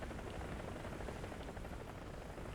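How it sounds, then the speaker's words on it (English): A helicopter in War Thunder tank battle gameplay produces a steady, dense rotor thrum overhead, a continuous droning wash of noise with no voices. "That helicopter's also spotting for us."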